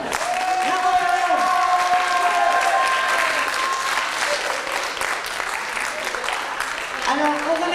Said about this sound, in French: j'ai envie qu'on l'applaudisse ce soir